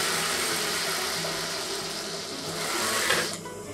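A sewing machine stitches a chudidhar collar neck in a steady, close whirring run, with a brief rise in pitch before it slows and stops near the end.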